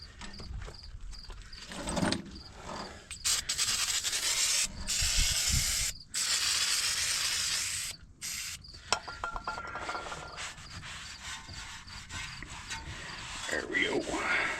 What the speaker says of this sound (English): just clean off the rotor. Last bit of brake clean that we got.